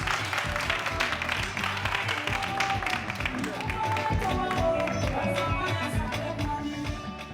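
Studio audience applauding a television guest introduced as a general stage manager, a steady dense wash of clapping that stays loud throughout, with music or voices faintly underneath.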